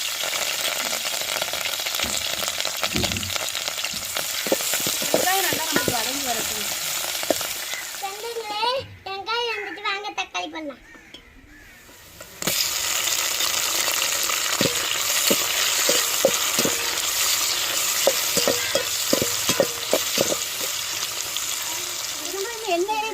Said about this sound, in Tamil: வெட்டி வச்ச வெங்காயத்தையும் சேர்த்துக்கிறோம் கருவேப்பிலை போட்டுக்கிறோம்